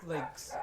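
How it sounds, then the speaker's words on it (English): A pet dog gives a couple of quick barks indoors, close and fairly loud in a short burst. "if you hear barking, that's my dog."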